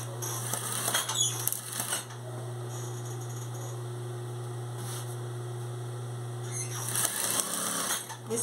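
A sewing machine stitches a strawberry-print fabric border, its motor a steady low hum with short bursts of rapid mechanical chatter at the start, middle and end, close and quiet.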